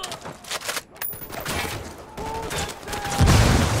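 Rapid gunfire bursts and fusillade from a firefight in the video game Ghost Recon Wildlands, at the Uyuni barracks, loud and continuous with a heavier blast near the end.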